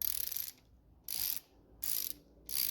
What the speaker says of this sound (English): then we'll use a 9/16 socket